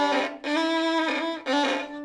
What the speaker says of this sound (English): So you do not want to apply too much pressure. If not, you're going to sound like this.